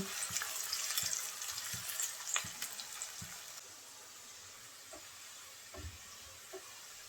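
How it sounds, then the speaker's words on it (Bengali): Chopped onions fry in oil. A quiet hiss runs under scattered stirring clicks and knocks, and it fades to a fainter sizzle partway through. "এখন এই তেলের মধ্যে দিয়ে দেব পেঁয়াজ কুচি"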